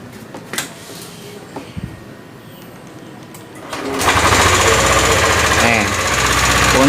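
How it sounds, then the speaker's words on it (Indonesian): Yamaha Aerox scooter engine with a rough ticking fault starts up after quiet background handling, then runs loud and close with a steady rapid clatter. "cara mengatasi mesin suaranya ngeletek ya"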